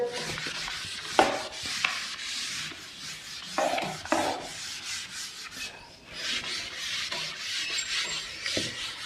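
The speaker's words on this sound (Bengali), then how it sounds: "আমি মুছে দিচ্ছি" A whiteboard being wiped clean during a chemistry lesson gives close, raspy rubbing strokes in uneven bursts, with brief pauses between passes and no talk.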